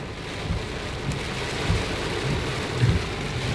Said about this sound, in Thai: ทั้งลมทั้งฝนครับพี่น้อง